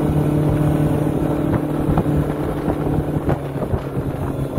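A 2021 Willie open blue jet boat running at planing speed, its steady engine roar and rushing water heard up close under heavy wind buffeting on the microphone.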